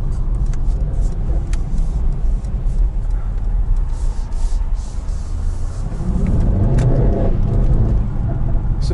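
A Mercedes E63S 4-Matic+ rolls over cobblestones, a constant low rumbling road and engine drone heard from inside the car that swells in the last few seconds.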